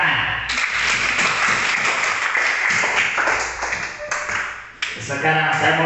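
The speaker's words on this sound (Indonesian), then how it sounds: "Iya, tepuk tangan." Primary school children in a fourth-grade classroom clap their hands together in a dense, lively burst of applause that runs throughout, with a short dip near the end before the clapping picks up again.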